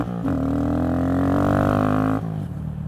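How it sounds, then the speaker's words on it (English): Honda Grom motorcycle with a loud exhaust, its throttle blipped once into a sustained, steady rev of about two seconds before dropping back to a rough idle. "Can't stop blipping the throttle."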